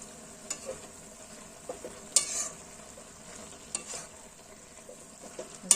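Buckwheat (fapar) greens being stirred in a pan, with a soft continuous sizzle and a few sharp scraping clinks of the utensil against the pan at irregular intervals.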